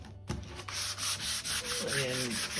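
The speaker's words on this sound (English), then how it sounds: "So I just got a little 220 from the old sanding pad" A 220-grit sanding pad rubs across a wooden cabin floor, a steady close scraping hiss that runs continuously with slight surges in pressure and no talk.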